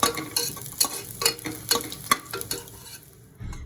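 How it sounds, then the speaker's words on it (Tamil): Cashew nuts fry in hot ghee in a pan for ghee rice, giving a steady close sizzle broken by sharp scraping stir strokes about every half second. There is no talk. "இப்போ நம்ம முந்திரி பருப்பை வறுத்து எடுத்து வச்சுக்கணுங்க."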